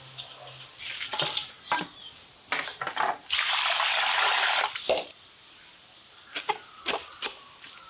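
Cut tengra fish being washed under a tubewell, with splashing and gushing water in bursts and one longer steady pour, close and fairly quiet.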